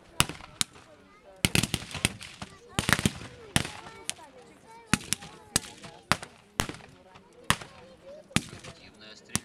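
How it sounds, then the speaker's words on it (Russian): Gunfire is exchanged from both sides on an open field: sharp, irregular shots and short bursts crack out again and again, some close and loud, others more distant, with a low murmur between them. "Активная стрельба идет с обеих сторон."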